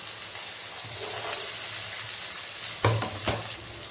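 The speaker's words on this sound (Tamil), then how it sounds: "பூண்டு, கருவேப்பிலை எல்லாத்தையும் போட்டோம். நல்லா வதங்கணும்." Garlic and curry leaves sautéing in hot oil for a kuzhambu, a steady close sizzle and hiss with a few scraping stirs of a utensil in the pan near the end.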